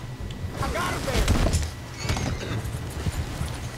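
A horse in the Western game Red Dead Redemption 2 whinnies and snorts amid clip-clopping hooves and rustling, with a voice briefly over the commotion.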